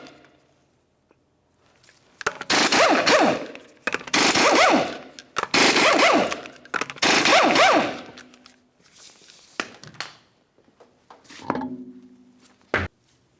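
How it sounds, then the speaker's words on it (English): An impact wrench removes 19mm lug nuts from a Ford Flex wheel: four loud bursts of rapid rattling hammering, each about a second long, followed by a few softer clicks and a final clunk. "continue on to removing all 5 of your 19mm lug nuts and then the wheel."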